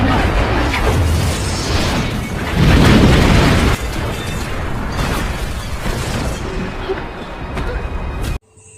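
An explosion destroys a minimarket in the 2006 film The Marine. A heavy low boom erupts mid-scene amid loud film sound, and a voice talks over it.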